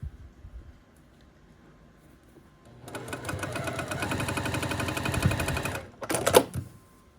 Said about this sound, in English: And I'm going to sew these 2 together.